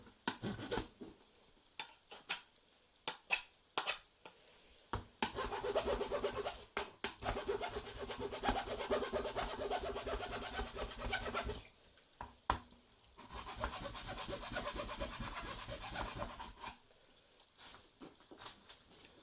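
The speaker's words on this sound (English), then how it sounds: "just going to file this down, make it nice and sharp" A file rasps against the end of a potato-cannon pipe to sharpen its cutting edge, in two long steady stretches of scraping strokes framed by a few sharp knocks and handling clatter, close and fairly loud.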